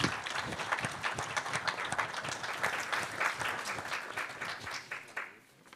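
An audience at a high-level apprenticeship event applauds, the claps individually distinct and lively at close range, then tapering quickly and falling nearly silent just before the end.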